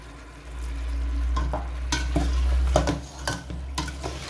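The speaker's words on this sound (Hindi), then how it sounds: "अब मैं इसे अच्छी तरह से भून लूँगी चिकन के साथ मीडियम टू" Chicken frying with spices and tomatoes in a pot over medium to high flame, a continuous low sizzle and hum with scattered scraping stirs and soft clinks of a spoon against the pot, close and steady.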